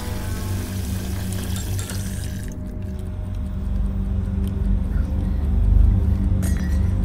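Water scooped and poured in the Haunted Hotel 8: Eternity video game, a steady liquid rush with a brief splashy scoop partway through, rising slightly toward the end, with no talking over it.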